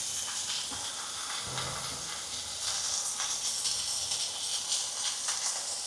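Chopped carrot and vegetables sauté in a hot pan with a steady, close sizzling hiss that holds an even level throughout.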